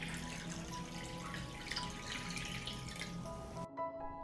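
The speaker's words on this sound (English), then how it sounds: "I pour water up to the height of the lid." Water trickling and dripping as it is poured into a pot holding glass jars of apricots set on a cloth, a steady close liquid sound running throughout before cutting off near the end.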